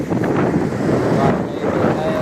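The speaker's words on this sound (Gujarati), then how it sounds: "વાયરો છે ખૂબ" Wind gusts buffet the microphone in a steady, rumbling roar that swells and eases across the short stretch.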